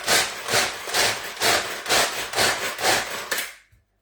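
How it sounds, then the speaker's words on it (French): A food processor chops 100 grams of peanuts in about seven quick, loud pulses, each a rattling whir of nuts hitting the blade, then stops with a brief clunk and silence. "j'ai mis 100 grammes de cacahuètes que je vais mixer. Je vais broyer, je vais hacher"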